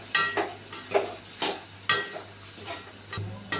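Bitter gourd with salt and chili powder frying in oil, with a steady sizzle punctuated by regular stirring scrapes about twice a second, close and clear.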